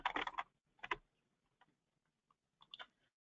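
Short bursts of quick keystrokes on a computer keyboard, close and fairly quiet, separated by near silence and a few isolated clicks.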